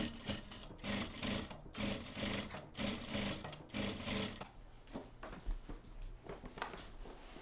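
A home sewing machine runs in steady rhythmic stitching bursts for several seconds while recycling old clothes, then stops, leaving quieter mechanical handling noise.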